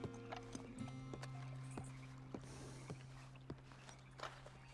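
Hooves of a horse walking in a Western video game, a steady run of clip-clop steps up close over a low musical hum, with no talking.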